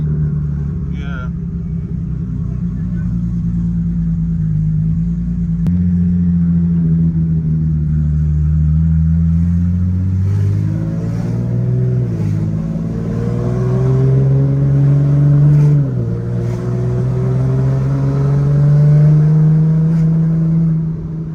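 A Toyota Altezza with a swapped 8HP gearbox drives along with a loud, steady engine drone from inside the cabin, the pitch rising and falling through smooth gear changes while people talk over it.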